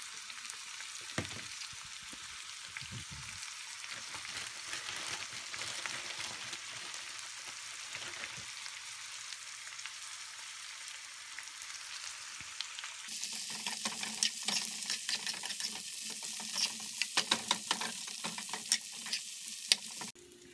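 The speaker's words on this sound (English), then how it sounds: "So we've made our stir-fried jackfruit" Jackfruit seasoned with onion powder, garlic powder, cumin, salt and pepper sizzles steadily in a hot pan, with intermittent stirring scrapes that grow busier and louder toward the end.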